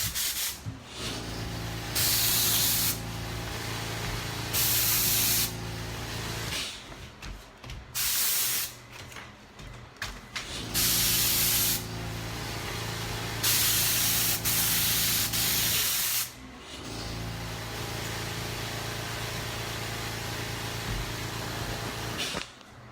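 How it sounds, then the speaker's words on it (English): An air-assisted airless paint sprayer coats cabinets in repeated bursts of loud, broad hissing spray lasting a couple of seconds each, separated by quieter gaps with a low steady hum of the pump running underneath. "So we'll spray quick with this guy"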